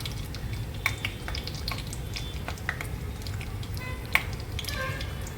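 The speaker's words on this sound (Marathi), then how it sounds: "कांद्याला चांगला ब्राऊन कलर येईपर्यंत आपल्याला फ्राय करून घ्यायचं आहे" Chopped onions and curry leaves fry in a pan with cumin and mustard seeds for a Vidarbha-style dal, giving a soft steady sizzle dotted with sharp little pops and crackles, fairly quiet and close.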